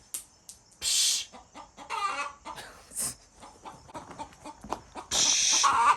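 A chicken clucks and squawks close by in a garage workspace, a run of loud bursts and scattered shorter clucks with rustling in between, no talking.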